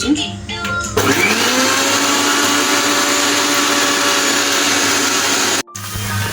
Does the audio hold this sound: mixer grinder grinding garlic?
yes